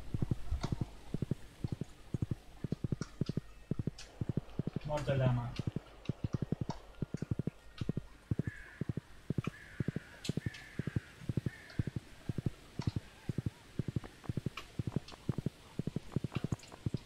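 Horse hoofbeats in Stardew Valley, a fast, steady clip-clop rhythm of hooves running on and on, with brief faint bird calls.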